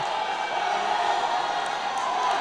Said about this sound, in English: the crowd's fired up for Tommy Chill dismantling Axel Fury